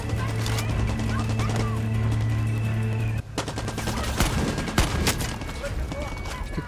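Rapid gunfire in the shooter Far Cry 6, with loud, dense automatic bursts and single shots crackling over a droning soundtrack, a short pause, then more shots under someone talking in German.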